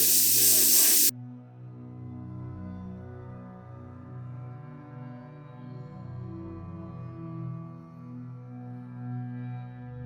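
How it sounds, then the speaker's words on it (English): An airbrush gives one short, loud hiss of spray lasting about a second while black paint goes onto a Black Templars Castellan miniature, then it stops and steady music plays on. "Alright, so the airbrush work is done"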